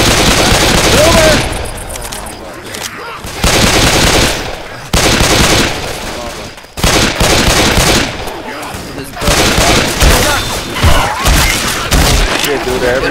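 Loud, rapid automatic gunfire in S.T.A.L.K.E.R. 2 during a firefight with bandits, fired in dense bursts broken by brief pauses, with booming impacts and players talking over it.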